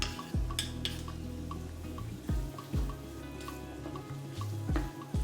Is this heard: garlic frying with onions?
yes